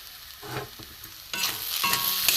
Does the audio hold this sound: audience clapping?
no